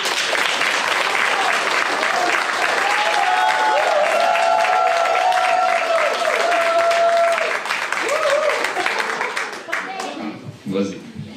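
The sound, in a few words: applause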